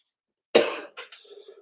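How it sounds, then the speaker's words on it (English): A single person coughs sharply at close range, followed by a few shorter coughs and a throat-clearing rasp during a live stream. "Oh, I felt that coughing fit coming on."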